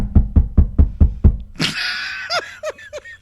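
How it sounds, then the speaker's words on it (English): A run of six loud, evenly spaced knocks on a door, followed by a rising high voice sound and a few short vocal calls. "So somebody's knocking on the door."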